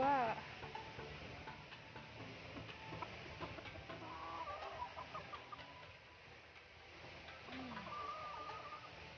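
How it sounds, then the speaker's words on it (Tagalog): Many chickens cluck and call around a rural yard at a copra-making site, scattered bursts at moderate distance over faint background noise, with people talking quietly at times. "Puro manok dito eh, ang dami oh."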